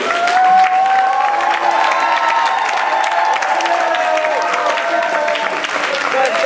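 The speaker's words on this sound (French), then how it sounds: "on donne une bonne main d'applaudissements pour notre dernière équipe de l'après-midi." A conference crowd applauds the last student team of the afternoon, with steady clapping mixed with cheering, whoops and young voices calling out, loud and continuous throughout.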